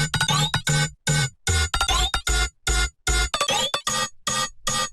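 Bass synth tone pushed through a frequency shifter, dubstep style, playing loud choppy rhythmic stabs with short gaps between them and a bright metallic edge, no talking.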